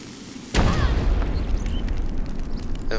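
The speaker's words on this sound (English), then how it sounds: "Next up is what happens if you stand in the blast radius of a bomb." A bomb goes off in the video game Ico: one sudden loud boom after a moment of quiet ambience, followed by a rumbling roar that sustains and slowly settles.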